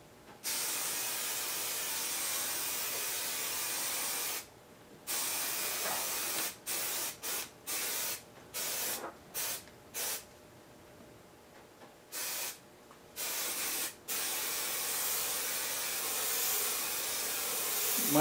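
A spray can hisses in a long series of bursts, some brief and some sustained, close by and fairly loud with quiet gaps between.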